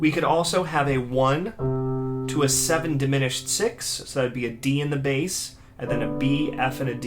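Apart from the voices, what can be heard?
No everyday noises stand out.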